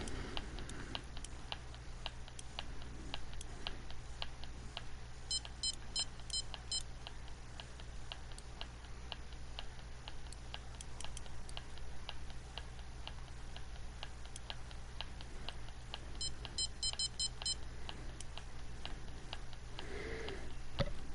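Tiny electronic bite-alarm beeps sound during shore bottom fishing in the Fishing Planet video game, faint quick clusters of high chirps that repeat over a steady ticking, softly clicking background.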